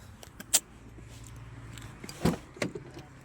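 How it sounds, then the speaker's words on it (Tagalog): Someone gets into a car for a drive to Bratislava, Slovakia: a sharp door clunk, a faint jingle, then another heavy thud and a softer knock in a quiet cabin. "pasok na ako sa kotse guys"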